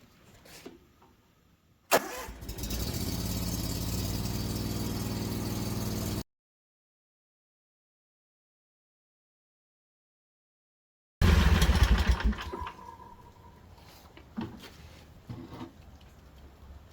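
A Kawasaki FS600V engine on an Encore Rage mower starts and runs at a steady, loud drone, cuts off to silence, then restarts and settles to a quieter idle.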